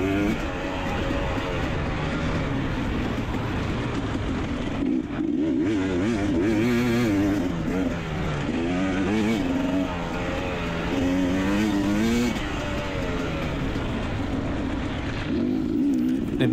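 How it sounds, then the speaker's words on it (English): Dirt bike engines race around an offroad course at the Buckhorn GP, round five of the 2023 Mag-7 Offroad Racing series. The engines roar loud and close without a break, with the pitch rising and falling as the riders work the throttle. "letting us come out here and race our dirt bikes"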